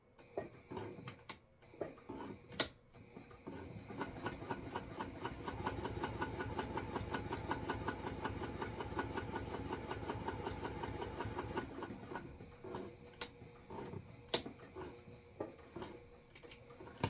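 A sewing machine stitches the raw inside edge of a fabric wallet, a steady close mechanical whir with rapid needle rhythm lasting several seconds, framed by start-up and stopping clicks.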